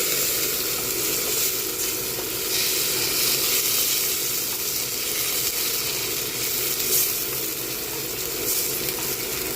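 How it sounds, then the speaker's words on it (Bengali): Whole cloves, green cardamom, bay leaves and a piece of cinnamon frying in hot oil for tempering, giving a steady, close sizzle with a bright crackle that holds evenly throughout, with no voices. "ফোড়নটা একটু ভাজা করে নেব"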